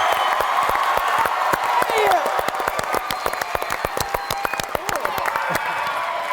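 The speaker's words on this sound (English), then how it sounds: "I'll take more cheering for this group." Audience at a PaleyFest panel for Cobra Kai cheering and clapping, dense sharp claps with whoops in a large hall, a sustained crowd roar that thins slightly toward the end.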